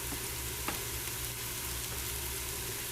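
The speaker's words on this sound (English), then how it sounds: "all the spices are mixed in nicely and getting sauteed" Ground spices such as coriander, turmeric and garam masala sauté in a Ninja Foodi pot for black chickpea curry, giving a steady, soft sizzle with a faint low hum throughout and no talking.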